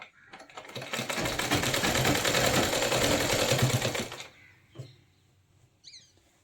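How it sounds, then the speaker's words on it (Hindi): A sewing machine runs a straight stitch along a lehenga for about four seconds at a steady fast pace, then halts, followed by a few quiet handling sounds. "पहले हमने इस पे सीधी सिलाई लगा लेनी है"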